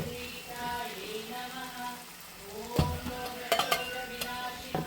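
Masala fries with coriander powder in a pan, a soft sizzle under tonal background sound, followed by a cluster of sharp utensil clinks and scrapes as it is mixed.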